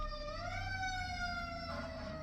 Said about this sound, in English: we will once again let our siren go by.